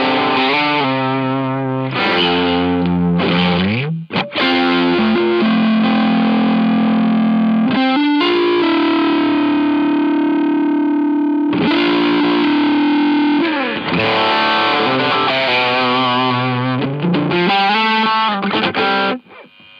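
An electric guitar played through an EarthQuaker Devices Plumes overdrive pedal, loud driven chords and riffs with a punchy midrange, continuous for about twenty seconds with no talk.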